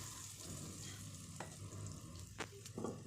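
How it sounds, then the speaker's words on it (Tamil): Mustard seeds and a ground paste fry in hot oil, giving a steady close sizzle with a few sharp pops and spoon scrapes over it. "எண்ணெய் காஞ்சதுக்கப்புறமா கடுகு சேர்த்துக்கலாம்."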